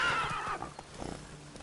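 Roach the horse from the video game The Witcher 3 gives a short, high neigh that fades into snorting and a few soft hoof clops, close and brief.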